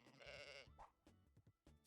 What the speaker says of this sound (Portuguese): É uma ovelha.